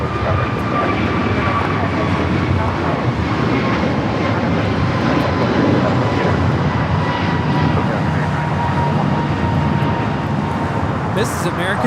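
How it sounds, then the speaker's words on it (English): An American Airlines A321neo takes off from Los Angeles LAX, its engines giving a loud, steady roar that holds through the whole stretch, with steady background noise throughout. "This is American Airlines 143 taking off to Honolulu on the A321neo."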